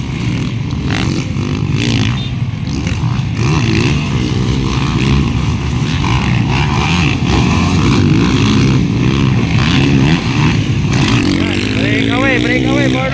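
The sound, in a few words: racing motorcycle engine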